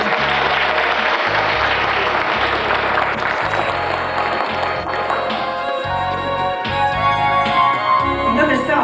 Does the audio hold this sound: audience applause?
yes